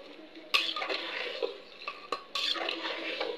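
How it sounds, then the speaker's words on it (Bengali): Fapsa cooks in spiced masala in a pan while a utensil stirs and scrapes it, giving a close clatter of metal knocks over a faint sizzle, with no talk. "এখন ফ্যাপসাটা ভালো করে সুন্দর করে কষিয়ে নিব।"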